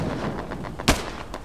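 A single sharp gunshot cracks out in the World War II shooter Hell Let Loose, rising above a dense, rumbling battlefield bed of distant fire and noise, with a fainter shot following.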